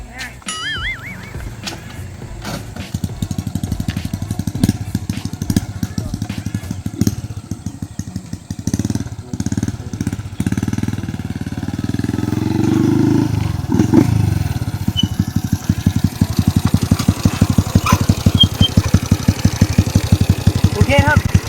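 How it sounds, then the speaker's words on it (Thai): A 110cc motorcycle fitted with a PCX exhaust revving repeatedly close by, rising and falling bursts over a rough idle, with someone speaking in between. "เบิ้ลให้ดูนะครับว่ามันจะเสียงเป็นแบบไหนนะครับ"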